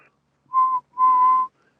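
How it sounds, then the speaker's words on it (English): A person whistles into a keyed ham radio transmitter on the 14 MHz band as a transmit test: two steady single-pitch tones, a short one followed by a longer held one, clear and alone. "I'm just going to key up and whistle"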